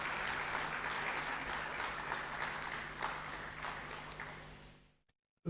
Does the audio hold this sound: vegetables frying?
no